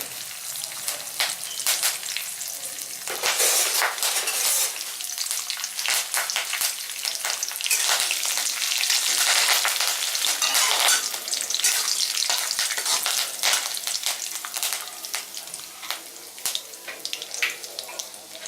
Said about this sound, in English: Let the mustard seeds splatter.